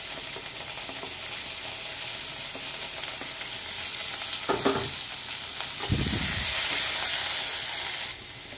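Four sliced onions sizzle and hiss in hot oil while being stirred for a cabbage egg biryani, a steady frying crackle broken by louder bursts of scraping and sizzling, with no one speaking.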